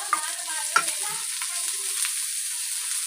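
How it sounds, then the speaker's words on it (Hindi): Onions and ginger sizzle in a hot pan, a steady bright frying hiss with a few soft clunks of stirring near the start. "और अब हम प्याज को सौते करेंगे डाल के साथ।"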